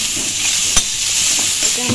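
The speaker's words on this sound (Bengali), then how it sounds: "ভালো করে নেড়ে নিচ্ছি" Vegetables, including potato, fry in a pan while being stirred, making a steady hiss with a soft scrape or two, close and fairly loud, with no talking.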